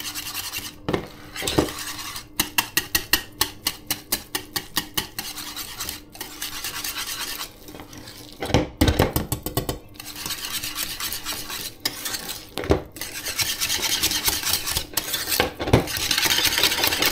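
A whisk beating butter in a bowl, with rapid rhythmic metallic strokes in bursts against the bowl, pausing between runs, close and fairly loud.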